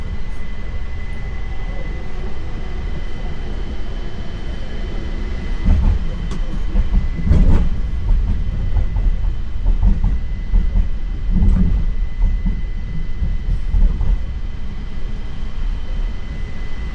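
A JFK Airport shuttle train rumbles steadily along the track, a deep continuous roar with heavier surges and rattles midway, close and loud with no voices.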